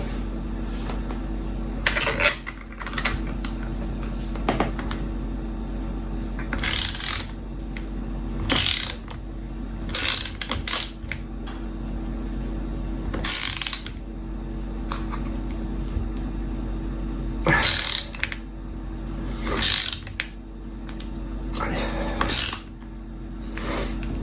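A wrench ratchets bolts tight on a battery assembly in repeated bursts of sharp clicking, close and fairly loud, separated by brief pauses over a low steady hum.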